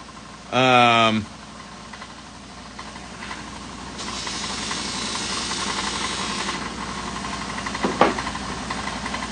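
A bench buffing wheel used for sharpening a heel shave runs with a steady motor drone, joined midway by a rough hissing rub as black compound is pressed onto the spinning wheel, after a brief tonal whine near the start.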